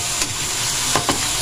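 Pork adobo frying in a pan with a steady close sizzle, a few brief scraping stirs breaking through near the start and again toward the end.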